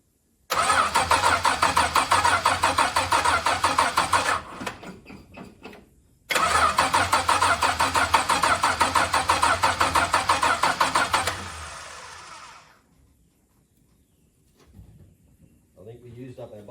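Pacer-powered VK Dodge ute engine cranking and firing, a loud, close, steady rhythmic chugging that runs for several seconds, stops briefly, then starts again for a longer run before dying away.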